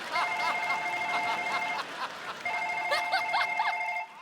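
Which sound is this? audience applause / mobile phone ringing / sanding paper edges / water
mobile phone ringing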